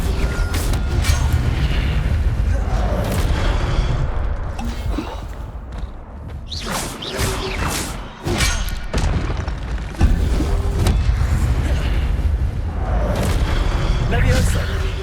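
Incendio fire spell blasts in a Harry Potter video game, several heavy booming bursts scattered among continuous loud game action, with a voice calling out spells in between.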